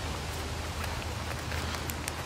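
Light rain patters on a surface, a steady soft hiss with scattered drops, no voices.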